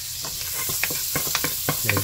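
Chopped garlic sautéing in a pan of margarine and a little cooking oil for chicken sopas, giving a steady bright sizzle broken by repeated scraping stirs of a utensil at close range.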